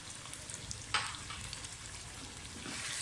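Garlic and ginger sizzle and fry steadily in a pan for a Degi-style shahi chicken korma, a continuous crackling hiss with a brief louder burst near the start, and no one speaking.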